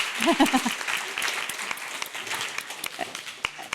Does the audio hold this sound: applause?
yes